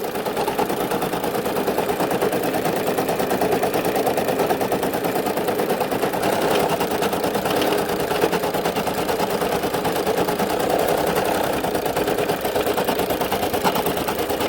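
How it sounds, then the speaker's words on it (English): A Brother SE1900 embroidery machine stitching a flower design runs in a fast, even, continuous needle clatter that stays loud and steady from start to finish, close up, with no speech. "flower embroidery design that I'm now stitching out"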